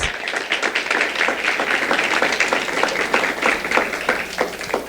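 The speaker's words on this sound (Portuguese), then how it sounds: "Tem alguém que poderia dar salva de palmas a Jesus pelo que Ele fez?" Church congregation applauding together, a steady round of clapping with scattered distinct claps standing out, moderately loud and continuing for about five seconds with little talk.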